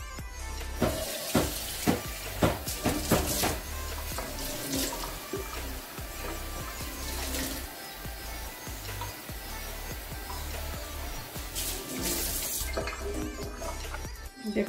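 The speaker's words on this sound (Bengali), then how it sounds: "এখন আমি পানি নিয়ে নিচ্ছি" Tap water runs steadily into a kitchen sink while batter for frying eggplant and chicken fingers is being prepared, a continuous broadband rush with a few sharper splashes and clatters near the start.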